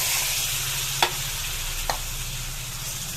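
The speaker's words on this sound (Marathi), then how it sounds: "आणि धुतलेला फ्लॉवर, वाटाणा, बटाटा तर हे सगळं तेलात टाकत आहे" Cauliflower, peas and potato stirred in hot oil with chilli paste in a pan, a steady close sizzle of frying under three sharp spoon scrapes spaced about a second apart, with no talking.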